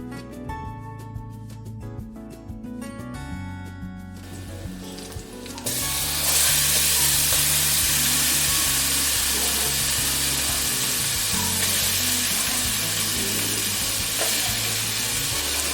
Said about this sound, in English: Add your vegetables to the skillet. Add more oil if you need to as well.